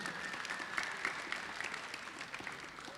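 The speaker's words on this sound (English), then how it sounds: "Let's give Carol Blazejowski one round of applause here." Steady audience applause in an indoor gathering honoring Carol Blazejowski, a continuous dense patter of many hands at moderate distance, holding evenly throughout with no clear speech.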